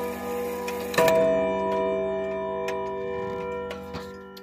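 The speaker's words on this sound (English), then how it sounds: "now I'm going to put my phone closer to the chime rod so you can hear it better" A 1930s Junghans longcase clock ticks steadily before a single struck note from its chime rod rings out close by and slowly fades while the ticking carries on.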